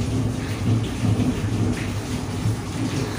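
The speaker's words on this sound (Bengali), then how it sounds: "জোরে বৃষ্টি হচ্ছে আমার বাইরে," Heavy rain pours steadily outside with low rumbling thunder underneath, a dense, continuous roar close by and loud, with no voices.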